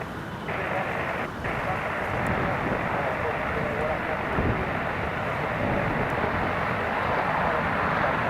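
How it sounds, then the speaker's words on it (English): A Pilatus PC-12 turboprop landing at Newcastle Airport on a windy day, a steady engine drone mixed with gusty wind noise, fairly constant throughout, with a person talking over it. "see this Pilatus PC-12 land"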